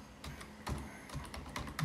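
A computer keyboard clicks steadily as an FTP command is typed, with close, soft keystrokes in a fairly even rhythm and no voices.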